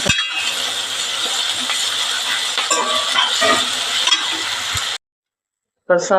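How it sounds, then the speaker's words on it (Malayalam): Carrot thoran for a Kerala-style dish is sautéed and stirred in a pan, giving a steady sizzle with scraping and clinking of the spoon against the pan. It runs for several seconds, stops briefly, then resumes. "നന്നായി അങ്ങനെ വഴറ്റി കൊടുത്ത് നന്നായി വഴന്ന് വരട്ടത്"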